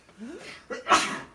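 A single sharp sneeze bursts out after a brief breathy intake, close and fairly quiet, with a little vocal sound around it.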